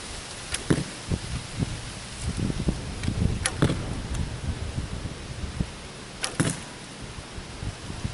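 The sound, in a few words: arrows from a bow clacking into a target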